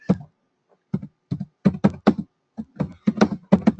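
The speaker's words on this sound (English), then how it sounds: "I could type in an address up here." Someone types an address on a computer keyboard: quick, irregular clusters of close, crisp key taps separated by short pauses, with no talking.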